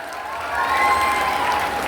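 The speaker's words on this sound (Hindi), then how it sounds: "जोरदार ताली बजाकर स्वागत करते हैं" A crowd at a Bahujan Samaj Party political rally clapping with scattered cheers, a steady dense patter that swells slightly midway and holds through the short stretch.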